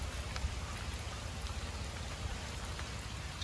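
Heavy rain pours steadily near a temple in Sri Lanka, a dense, continuous hiss of drops hitting surfaces, with no pauses.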